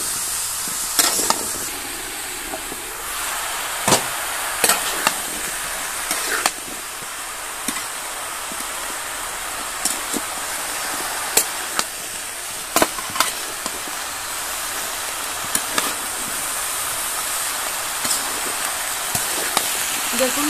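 Vegetables frying with onions in a pan, a steady close sizzle broken by frequent clinks and scrapes of stirring.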